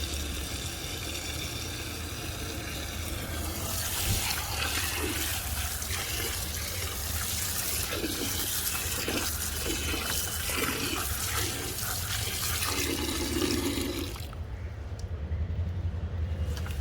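Tap water runs steadily while fresh holy basil (tulsi) leaves are rinsed, a continuous close gush with splashing that shifts near the end, with no talking.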